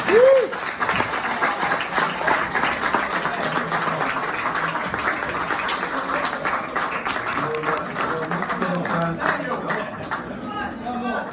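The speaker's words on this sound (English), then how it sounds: "Have a round of applause." Sustained applause from an audience at an Oasis Knebworth book launch Q&A, a dense steady patter of many hands lasting throughout, with voices faintly audible within the crowd.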